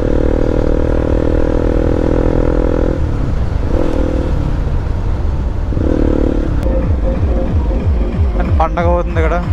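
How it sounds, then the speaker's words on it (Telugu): A motorcycle with its exhaust KB filter cut revs loudly and steadily nearby, then drops and surges again in bursts, with clattering and a voice at the end. "చూడండి, లౌడ్ సౌండ్ చాలా గట్టిగా వస్తుంది."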